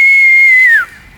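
One sharp human whistle, a single sustained tone of under a second that bends downward as it ends, loud and close, used to call someone, followed by near silence.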